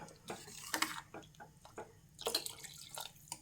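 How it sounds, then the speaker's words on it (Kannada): Water is added to a pot of greens-stem saaru, heard as quiet, scattered splashes and drips in an irregular rhythm. "ಹದ ನೋಡ್ಕೊಂಡ್ಬಿಟ್ಟು ನೀರು ಎಷ್ಟು ಬೇಕು ಅಂತ ಹಾಕ್ಕೊಳ್ಳಿ"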